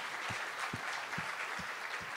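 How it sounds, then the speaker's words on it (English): A crowd applauds steadily at a team engineering quiz competition, dense clapping filling the room with a soft thumping pulse underneath, moderately loud and continuous throughout. "Let's have a round of applause"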